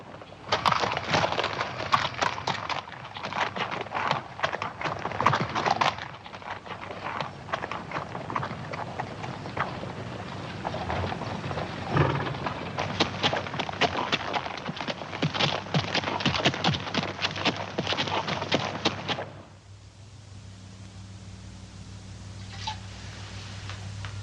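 Several horses' hooves clip-clop steadily for a long stretch, fairly loud, then stop, leaving a quieter background hum.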